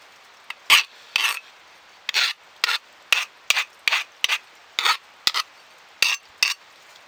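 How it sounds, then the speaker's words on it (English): A hand file rasps off burrs left on a metal part of a reconstructed high banker, in about a dozen short, even strokes with brief pauses between them. "Then take my file here, clean up the burrs left behind."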